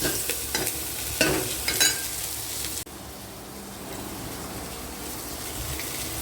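Onions fry and get stirred in a pan, scraping strokes over a sizzle for the first few seconds, then a steadier, quieter frying hiss carries on alone without speech.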